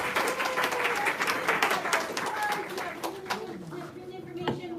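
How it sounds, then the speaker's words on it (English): Audience applause at a charity paddling event in New York City, steady clapping that fills the first seconds then thins out, with voices and chatter mixed in. "Round of applause."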